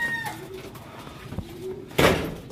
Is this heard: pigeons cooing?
yes